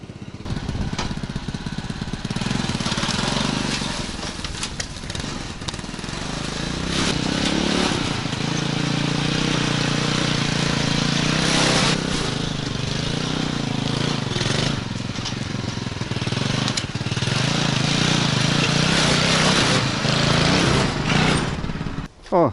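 A homemade motor tricycle drives along with its small engine running continuously and loudly. The engine has a buzzing, lawnmower-like drone that rises and falls a little, and faint voices come through now and then.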